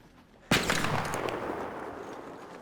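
Gunfire in the extraction shooter Arc Raiders: a sudden loud shot or burst, then sustained rattling, reverberant fire that carries on fairly evenly with no talk over it.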